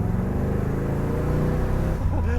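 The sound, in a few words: vintage V8 car driving on highway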